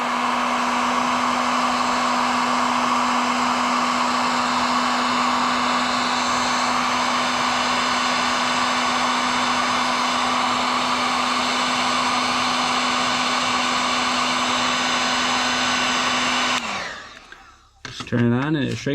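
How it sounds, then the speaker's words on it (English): A Harbor Freight Drillmaster heat gun runs with a steady, loud blowing whir and a constant motor hum for about seventeen seconds, then switches off abruptly, leaving quiet handling noises while wiring work is done in a 1968 AMC Javelin engine bay. "I have a heat gun here, just a Harbor Freight Drillmaster heat gun. It works great."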